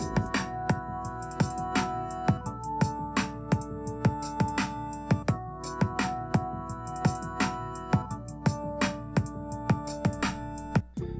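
Remake of the Stranger Things theme on synths with an extra melody layered in, evenly pulsing plucked notes and beat over sustained pads, playing continuously at moderate level without any talk.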